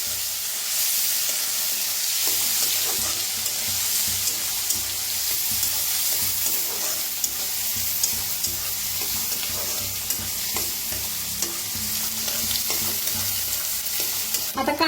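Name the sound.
onion frying and being stirred in a pan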